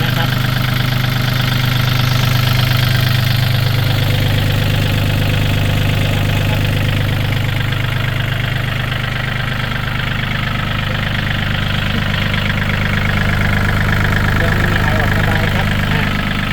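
A 2018 Yanmar EF393T tractor idles with a steady diesel drone and knocking rumble, loud and close throughout, while someone talks over the engine.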